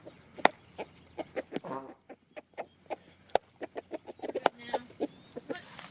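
Backyard chickens cluck in a busy, irregular series of sharp calls, some close and loud, others softer, with brief squawks mixed in.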